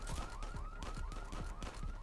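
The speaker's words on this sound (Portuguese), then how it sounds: "O alarme tocou." A wailing alarm goes off during a bank vault heist in the open-world mobile game Free City, its rising electronic sweeps repeating rapidly and evenly at a moderate level with no talk over it.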